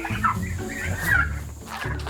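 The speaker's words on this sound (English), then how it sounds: "look at these turkeys" Farm turkeys call in a flock, with warbling gobble-like bursts rising over a steady background of clucking and fowl chatter, fairly close and continuous throughout.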